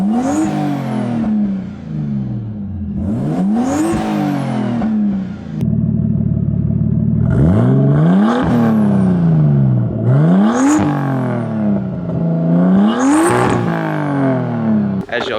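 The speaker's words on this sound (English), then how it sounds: "As y'all can see, the car runs great." A car engine running close by, revving up repeatedly in rising swells that fall back to a steady idle between throttle blips, with someone speaking briefly.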